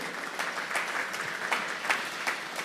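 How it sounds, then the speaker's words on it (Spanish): A congregation applauds during an evening church service, a steady wash of clapping with a few sharper claps standing out, moderately loud and with no talking. "Vamos a darle un fuerte aplauso pues al Señor esta noche."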